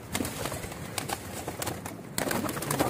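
Pigeons from a flock of about thirty caught from a rooftop coo in soft, low, repeated phrases, several calls spaced through the moment against a light background hiss.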